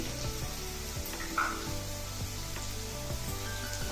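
Raw banana pieces frying in a pan as cumin powder and coriander powder are stirred in, giving a steady close sizzle with faint scraping of the stirring throughout.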